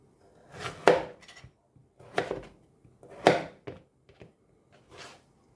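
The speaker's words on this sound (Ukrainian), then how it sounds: "Такими невеличкими шматочками теж наріжу кабачки." Zucchini being chopped into small pieces on a board, a handful of knife strikes landing in irregular bursts with short pauses between, close and fairly quiet, with no talking.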